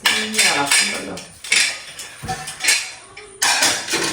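Kitchen utensils and metal cookware are picked up and set down in a home kitchen, a near series of irregular clanks, rattles and clinks with short pauses between them.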